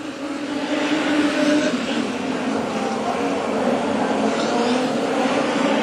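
Modified sedans racing on the Carina Speedway oval in the Carina Classic final, a steady loud roar of many engines running together throughout, with no pause and no clear passes standing out.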